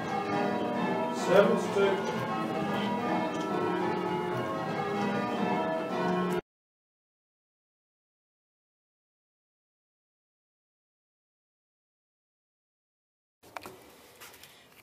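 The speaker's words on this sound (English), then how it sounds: "The 10 bells of Cookham" Church bells at Cookham ring in rounds, a dense overlapping peal of tuned bells lasting several seconds before cutting to silence, then resuming faintly near the end, with a brief spoken call heard.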